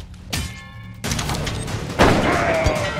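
A few sharp gunshot bursts with echoing tails ring out in quick succession amid action in the video game The Culling.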